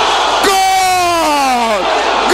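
A football crowd roars at a goal during a Uruguayan Intermedio match between Liverpool and Deportivo Maldonado: one loud, close burst of yelling that swells and then fades over about two seconds.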